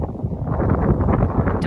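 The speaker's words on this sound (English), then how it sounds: "This wind." Strong outdoor wind buffets the microphone, producing a continuous low, rumbling roar throughout a short stretch.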